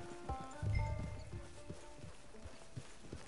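Horse hooves in Red Dead Redemption 2, a rhythmic clip-clop of steady steps at close range over a quiet outdoor game ambience, no speech.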